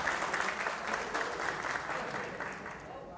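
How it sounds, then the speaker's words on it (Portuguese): An audience at a national forum ceremony in Vitória, Espírito Santo, gives a steady round of applause, dense clapping held at an even level throughout, with a crowd murmur mixed in. "uma salva de palmas para esse momento que é muito importante."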